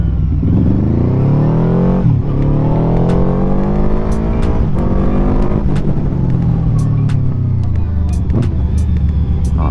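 A QJmotor Flash 600 V4 cruiser motorcycle revving hard under throttle, a loud close engine roar rising and falling in pitch through repeated surges, with faint clicks over the steady drone.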